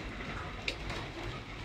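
Pigeons kept in a heated room coo softly against a faint, steady background hum, with a brief higher chirp partway through.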